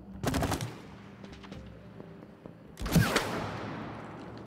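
Weapon fire in the co-op video game It Takes Two, two loud bursts of rapid shots separated by a quieter stretch of small clicks and ringing, close and harsh with no speech.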